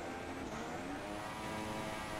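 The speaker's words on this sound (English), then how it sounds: "he really revs it up coming out of that final corner" An F1 race car from the F1 2016 video game at the Brazil GP, its engine revving hard as it exits a corner. A loud, continuous high-pitched whine holds steady across the clip, with no one speaking.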